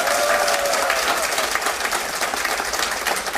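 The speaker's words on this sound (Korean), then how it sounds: "박수 한번 쳐봐" Lecture audience clapping on request, a sustained dense round of applause filling the room, steady and fairly loud throughout.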